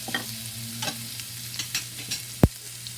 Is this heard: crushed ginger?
yes